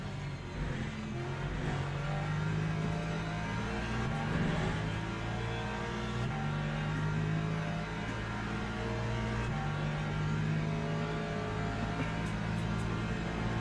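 Le Mans Ultimate race car engine, running with rear damage, revving through gear changes in a steady loud drone, stepping up and dropping in pitch with each shift, with faint other cars around.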